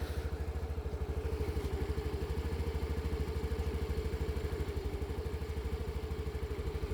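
A TVS Jupiter scooter engine idles at a standstill just after starting, a close, steady low chugging putter with a rapid even pulse and slight mechanical clatter, running alone without speech.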